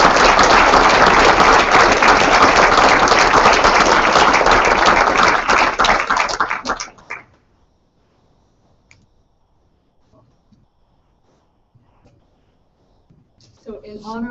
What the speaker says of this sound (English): Please welcome me in a round of applause.